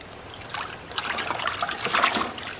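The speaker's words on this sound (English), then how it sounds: "Alright, now I'm just going to rinse it." Paint brush being rinsed under running water, a close, steady trickle and splatter that grows busier as the bristles are worked under the stream, with no talking.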